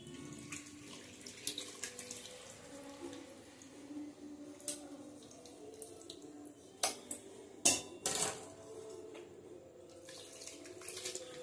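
Water poured from a vessel into a cooking pot over pieces of meat in tamarind sauce, a soft running splash with a few louder pot clanks and splashes midway, no voices.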